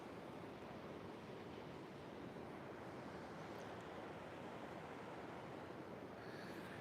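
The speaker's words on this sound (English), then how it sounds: "Feel that ocean breeze there" Steady ocean surf washes continuously along an oceanfront beach, with a soft sea breeze hissing through it at low, even volume and no speech.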